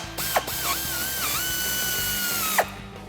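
A power tool ratchets and whirs while removing the 15 mm factory shock bolt and 18 mm nut on a 1994–2004 Ford Mustang, a loud, close, sustained whine with pitch dips and a couple of sharp clanks.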